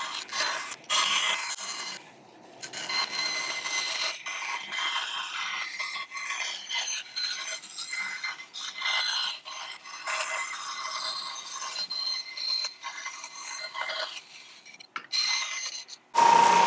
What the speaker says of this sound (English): then we'll clean that up with some sandpaper